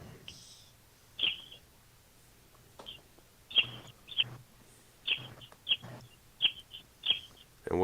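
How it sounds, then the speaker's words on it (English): A couple of birds give a series of short, bright chirps in irregular bursts, sounding hollow and airy as if passing through a wind tunnel, over a faint low hum. "it sounds like a couple birds chirping through a wind tunnel"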